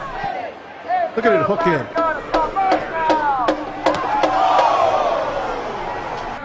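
A stadium crowd is roused by a worker in the end zone, with voices swelling into loud, sustained cheering and sharp thuds and whoops throughout, while a commentator talks over the noise.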